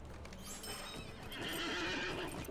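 A horse in the online game Lord of the Rings Online whinnies and neighs over steady clip-clop hoofbeats, a close, continuous game sound effect that swells louder in the second half.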